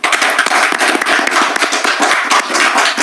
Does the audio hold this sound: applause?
yes